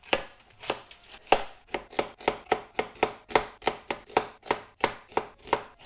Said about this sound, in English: I am just going to slice up 2 onions.